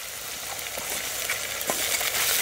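A pan of lightly fried sliced onions with ginger-garlic paste, yogurt and cashew paste sizzles for an egg malai gravy cooked outdoors by a riverside. The frying is a steady close crackle with faint stirring scrapes and no speech.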